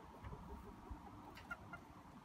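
A small backyard flock of chickens clucks softly and murmurs while waiting for a treat of slugs, a quiet low chatter with a few sharper clucks near the end.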